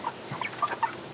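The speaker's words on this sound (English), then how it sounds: "Here are the first half of the chickens in the chicken feeder." Chickens clucking inside a chicken tractor fenced with hardware cloth, soft scattered clucks and short calls from several birds at moderate distance, with no talking.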